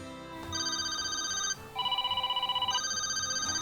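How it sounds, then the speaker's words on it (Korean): A plain Samsung Galaxy smartphone telephone ringtone plays clear electronic melodic tones in two repeating phrases, the second pulsing rapidly, loud and close with no talk. "이거는 그냥 전화기의 소리잖아요"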